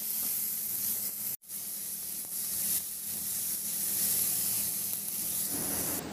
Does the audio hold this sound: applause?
no